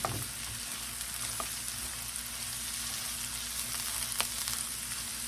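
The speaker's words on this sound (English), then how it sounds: "Those onions have caramelized so good." Caramelized onions sizzle and fry steadily in a pan, a dense, continuous crackle at close range with a few sharper pops and no talking.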